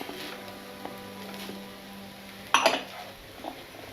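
A brief metallic clatter of a spoon scraping and clinking in a pan as lemon juice is mixed into chicken fried rice, one short burst near the end over a quiet kitchen hum.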